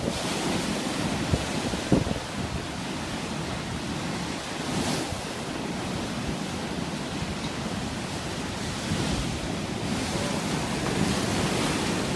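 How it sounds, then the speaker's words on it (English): Heavy sea surging and crashing over a pier in North Yorkshire, a continuous loud roar of surf and wind with swells rising and falling throughout, no voices. "A pier in North Yorkshire gets overwhelmed by the dominant sea"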